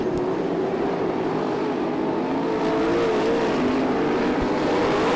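Race cars in a Top Gun sprint car event roar steadily down the back straightaway into turn 3, a loud, continuous engine drone with shifting pitch as the pack passes.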